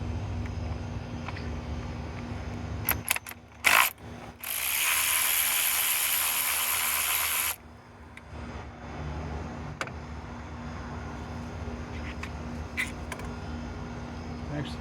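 A ratchet works E10 bolts loose on a Mercedes W211 E320 Bluetec with the OM642 diesel engine, giving scattered clicks, a few sharp bursts and a sustained, close whirring rattle for several seconds.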